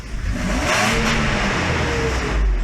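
A Mercedes S600 engine revs hard toward redline under full throttle, a loud, close, rising mechanical roar that holds steady for a couple of seconds with no talking.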